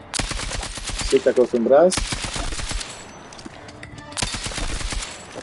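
Rifle fire in Battlefield 6 REDSEC, a weapon with synthetic ammunition: sharp bursts of shots at the start, around two seconds and again past four seconds, with a player talking over the gunfire throughout.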